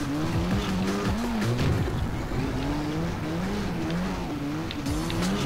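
A Yamaha motorcycle in a racing video game revs and wails with shifting engine pitch, alongside squealing tires, continuous and fairly loud.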